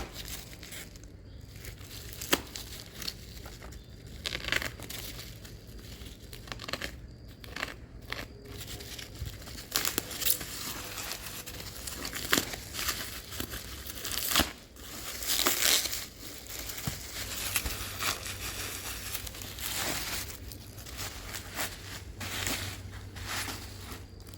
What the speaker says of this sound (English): Hopefully we can get this tape off without slicing right through the visor.